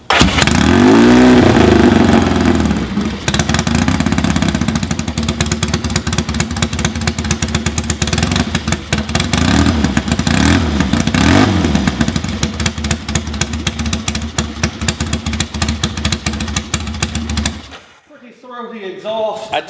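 A Laverda 750 air-cooled twin motorcycle with its factory US-market shorty 2-into-1 stock exhaust starts close by and settles into a loud, rough idle. It blips through repeated throttle revs before cutting off near the end.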